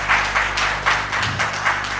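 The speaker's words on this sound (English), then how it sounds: "please give them a big hand of applause." Applause from a conference audience at an annual general meeting, steady, dense clapping in gentle waves, moderately loud and fairly close, with no talk over it.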